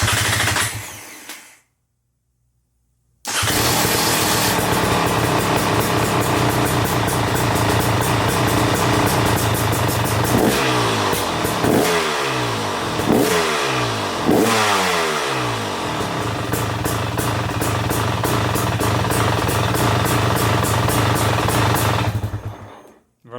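A 2023-2024 KTM motorcycle engine fires up after a short gap, settles into a loud steady idle, then gets several sharp blips of the throttle in a row before dropping back to idle, close and alone.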